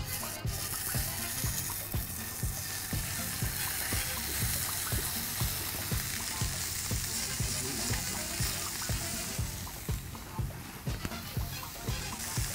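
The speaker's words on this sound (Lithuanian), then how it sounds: "Sūdytą lašišą aš iš vienos pusės ant keptuvės karštos uždėsiu ir kelias sekundės palaikysiu" Salted salmon searing on a hot frying pan gives a loud, continuous hiss and sizzle with regular soft clicks and taps beneath it, and no one talks.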